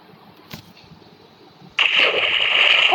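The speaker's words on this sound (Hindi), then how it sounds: "ओह शिट पानी आ गया" Minecraft water floods into a house: after quiet clicks, a sudden bright splashing rush starts and keeps pouring loudly to the end, with no talking.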